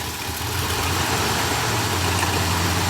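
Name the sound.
1966 Cadillac Eldorado engine revving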